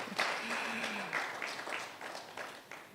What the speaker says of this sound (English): I thought you would clap